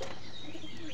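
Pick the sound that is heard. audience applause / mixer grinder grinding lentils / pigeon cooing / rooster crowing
pigeon cooing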